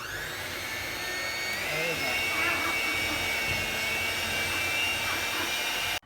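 A new electric mixer creams butter and shortening for tea cake batter, a loud steady whir running close and unbroken for several seconds before cutting off abruptly.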